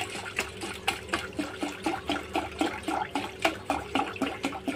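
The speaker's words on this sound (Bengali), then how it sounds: "বেশি করে জল দিয়ে ভাতটা করার জন্য দেবো, যার জন্য আমি জল দিয়ে দিচ্ছি।" Water is poured steadily into a pot of twice-washed rice, adding plenty for cooking; a close, continuous splashing pour runs throughout with small rhythmic gurgles and no talking.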